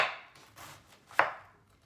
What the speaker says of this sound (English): Right now I'm going to be shredding this cabbage pretty thinly